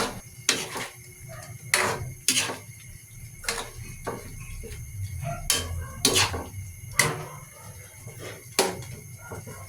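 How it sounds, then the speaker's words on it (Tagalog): Fried tofu being stirred in a pan of binagoongan, a spoon clinking and tapping against the metal at irregular intervals about once a second, over a low background bubbling. "Nailagay na natin yung naiprito natin tokwa at saka naman natin haluin para magpantay yung lasa niya."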